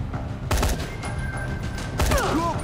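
Rapid bursts of gunfire from shooting zombies in Dying Light: The Following, with two loud volleys standing out over a constant backdrop of game noise.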